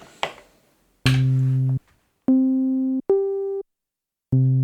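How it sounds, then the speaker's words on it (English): Abstract Instrument Avalon 303 clone synth playing a dry, clean signal: a few short buzzy sustained bass notes at shifting pitches with abrupt starts and stops and silent gaps, after an opening noisy click and burst. "This is my 303 clone, the Avalon, the Abstract Instrument Avalon"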